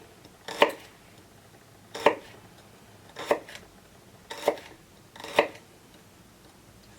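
A stainless steel kitchen knife slicing thin pieces on a cutting board, five crisp, separate cuts spaced about a second apart, close and clear against a quiet background.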